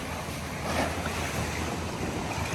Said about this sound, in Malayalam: ഫുള്ള് തിരുമാലയാണ് കാറ്റ് ഫുള്ളായതുകൊണ്ട്